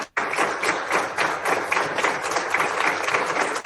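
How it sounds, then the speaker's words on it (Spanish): Sustained applause fills a hospital corridor lined with staff honoring an organ donor, with dense, steady clapping from many people close by that continues for the whole stretch. "Esto que les muestro es un pasillo de aplausos."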